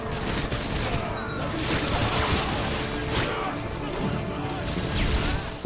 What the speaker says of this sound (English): You're gonna hear the big guns through here.